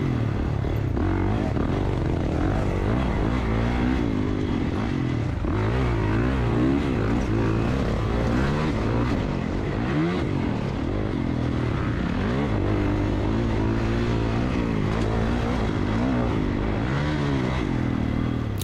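A motocross dirt bike lapping the Moto541 track, its engine droning continuously and loudly with rising and falling revs through gear changes and throttle work.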